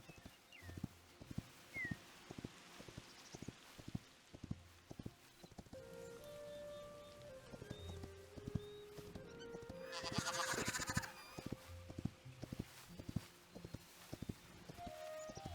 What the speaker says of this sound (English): I wanted to see if Invincible was faster than the regular horse